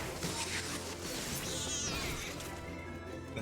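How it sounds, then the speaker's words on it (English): A cat meows a few drawn-out times in the video game Final Fantasy XIV, against a soft background hum, moderately close and clear. "Look at that, they even make cat sounds."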